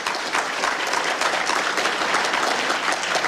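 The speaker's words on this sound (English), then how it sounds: "Give our graduates another round of applause." An audience at a graduation landing ceremony for an accelerator program claps steadily, a dense, even applause with no pauses from start to finish.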